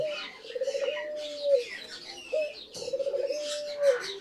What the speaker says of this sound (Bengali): ঘুঘু পাখির ডাকটা শুনেন কত চমৎকার।